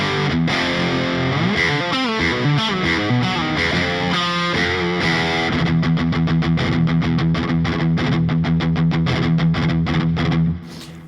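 A Laney IRF Loudpedal on channel 2 drives a high-gain, modern distorted electric guitar through sustained chords and then tight, rhythmic chugging riffs, loud and upfront, ending with a cut-off.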